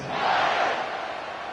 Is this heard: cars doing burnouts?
no